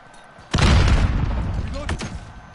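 A grenade goes off in a Modern Warfare match: a sudden loud boom hits half a second in, its rumble rolling on and fading over the next two seconds, with a couple of sharper gunshot-like cracks near the end under sporadic voices.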